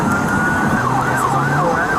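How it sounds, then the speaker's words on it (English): A police car siren wails loudly and close, its pitch sweeping up and down as the tone switches to a faster warble, over a steady engine rumble. "Changing the tone on your sirens."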